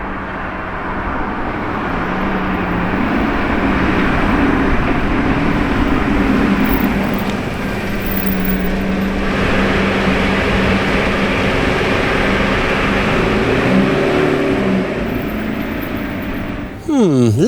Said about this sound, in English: I think we have the military green Revuelto coming back.